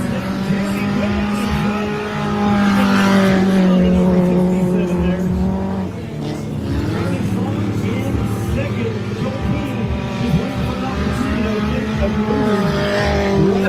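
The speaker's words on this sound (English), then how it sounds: "So they basically just cut off the back wheels of a front wheel drive car and they're racing them ass open, Scott." Front-wheel-drive cars with their back wheels cut off race in a half-car event, engines droning steadily with tire squeal and passing revs throughout, loud and continuous with crowd or commentary voices mixed in.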